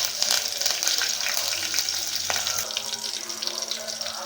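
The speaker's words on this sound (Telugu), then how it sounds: "మిరపకాయలు వేగాయండి" Green chillies fry in hot oil with cumin and curry leaves, a dense, continuous crackling sizzle close at hand with stirring scrapes throughout.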